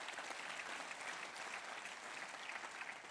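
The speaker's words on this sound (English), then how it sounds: "Let's give them a round of applause" A steady wash of audience applause fills the hall at a university commissioning ceremony in Lagos, continuous and fairly even from start to finish with no voices on top.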